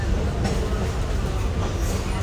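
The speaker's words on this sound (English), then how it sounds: "the Sugar Express is a steam engine" The Sugar Express steam train rolls along the rails of the Florida Gulf Coast Railroad near Parrish, Florida, as a loud, steady rumble heard from on board, continuous throughout.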